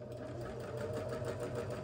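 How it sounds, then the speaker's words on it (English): A sewing machine stitches quilt block fabric pieces together, a steady rapid whirring hum, close and continuous with no talk. "I'm gonna run them through my sewing machine right here"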